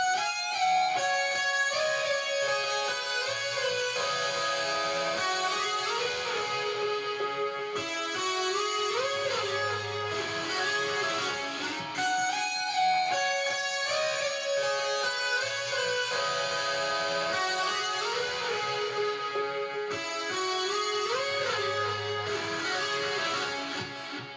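A tapped electric guitar melody repeats in quick, bright cascading phrases over a steady backing, sustained throughout and fairly quiet.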